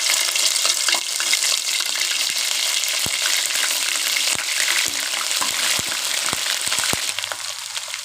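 Garlic and ginger paste sizzles loudly in hot oil in a pot for chicken korma, a steady dense frying hiss running throughout with small clicks and stirring noises, fading slightly at the end.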